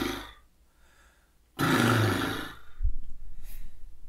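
A voice imitates an old truck or a horse with a relaxed lip trill, a loud rough fluttering burst that runs for about a second, followed by quieter breathy flutters.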